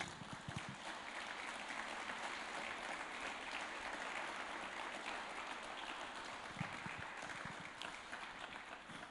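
A church congregation applauds during a Sunday service, broad sustained clapping from many hands filling the room evenly and continuously, with no voices rising above it.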